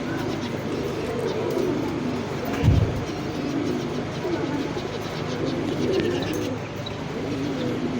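Soft cooing of high-flyer breeder pigeons in a busy outdoor setting, low murmuring calls repeating under background noise and a brief thump.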